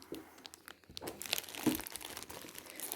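Plastic shopping bag holding small gifts brought back from Cyprus, rummaged through with close, faint crinkling and rustling that comes in irregular bursts, with no speech.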